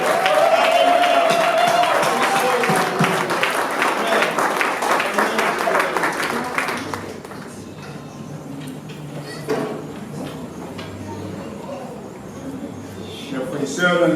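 A crowd at an evangelical church conference claps and applauds loudly for several seconds, then the clapping thins out and fades while voices and speech continue.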